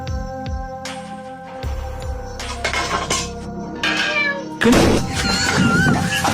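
A person mimics a cat, producing a series of close, wavering meows that rise and fall, with clinks and clattering thrown in and a louder burst of commotion near the end.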